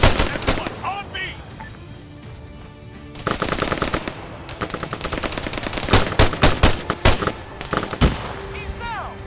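Automatic gunfire in the Arma 3 military shooter, with repeated loud machine-gun bursts and single shots crackling over a busy combat soundscape, while voices shout in between.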